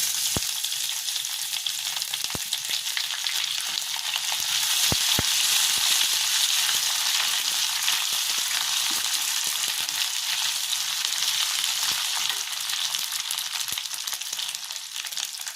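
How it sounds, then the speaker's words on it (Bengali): Chopped ginger and garlic frying together in a pan give off a steady, loud sizzle that holds evenly throughout, with no voices over it. "এবার দিয়ে দিচ্ছি যে আদাটা কেটে রেখেছিলাম, আদাটা দিয়ে দিই।"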